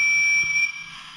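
Steady electronic whistle from a Percy Bluetooth Lionel toy train engine, a thin sustained high tone lasting about a second.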